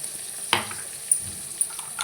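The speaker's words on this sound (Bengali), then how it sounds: "এবার সমস্ত সবজিগুলোকে একসাথে ভাজবো" Potato, pointed gourd and ridge gourd fry together with turmeric, a soft sizzle broken by three sharp spatula knocks against the pan at roughly even intervals, with no voices.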